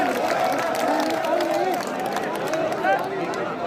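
Continuous crowd applause and clapping from a large gathering at a village protest, with cheering and murmuring voices blended into a steady, fairly loud wash throughout.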